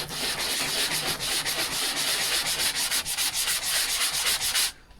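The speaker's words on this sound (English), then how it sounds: "this filler sands off quite easily" Filler on a hospital bed headboard or footboard is hand-sanded at an angle, a close, loud, steady back-and-forth rasp of quick even strokes that stops abruptly near the end.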